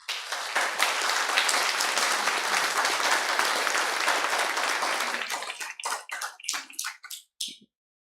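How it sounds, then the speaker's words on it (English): Audience applause at an artist panel, a full, dense burst of clapping from a seated crowd that holds steady for about five seconds, then thins into scattered individual claps before stopping. "I hope you'll join me in thanking them with some applause."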